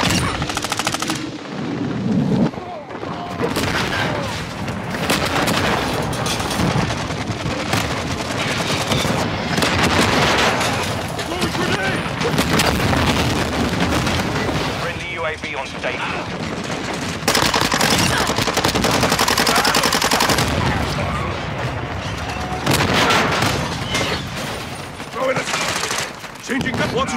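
Dense, near-continuous automatic gunfire and explosions from the Call of Duty: Modern Warfare II Shipment multiplayer map, loud and relentless, with brief callouts from game voices mixed in.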